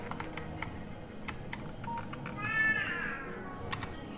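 A house cat meows once in a short, rising call, near but fairly soft, over a steady background hum with light clicking from video game sound effects.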